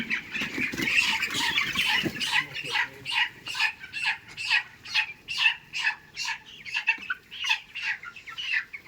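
Poultry chickens, about 19 days old, squawk and cluck in a dense, continuous chorus of repeated short calls in a poultry shed, close and fairly loud, with no talking.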